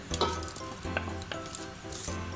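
Bay leaf, star anise, cumin and black peppercorns sizzle in a pan with tomato for matar pulao, a brief close crackling hiss with a couple of quick stirring scrapes.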